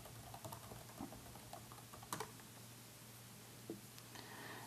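Soft typing on a computer keyboard while entering an Apple ID, a faint scatter of light key taps with a few slightly louder clicks, quiet and close.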